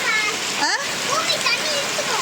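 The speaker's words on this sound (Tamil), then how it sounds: "சரியான மழை சரியான மழை பார்த்துங்க" Heavy rain pours in a Chennai neighbourhood as a steady wash of splashing water, with voices, including a child's, speaking over it.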